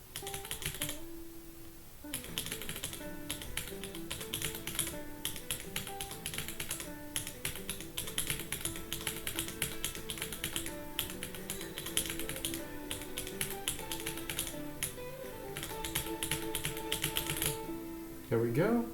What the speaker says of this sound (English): the mechanical keyboard clacking is informing me that I'm actually playing